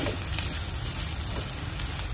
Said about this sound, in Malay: Tumis biasa.